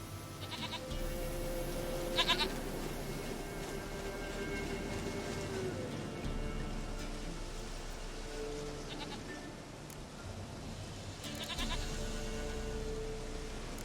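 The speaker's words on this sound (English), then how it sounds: "Goat of mine, dearest," A goat in the video game The Witcher 3: Wild Hunt gives a few short, distinct bleats spaced seconds apart over a steady hissing, rain-like ambient background.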